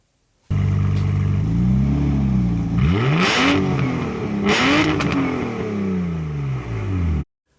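A V12 car engine, the same unit used in the McLaren F1, fires up and revs loudly and close, climbing and falling through two sharp throttle blips before cutting off.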